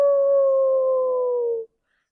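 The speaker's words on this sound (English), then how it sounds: "Suddenly, Wolf and Coyote raised their heads and howled" A lone, clear howl in the style of a wolf or coyote holds one steady pitch for under two seconds, then cuts off abruptly into silence.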